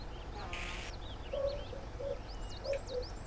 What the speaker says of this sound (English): The bird song's quite nice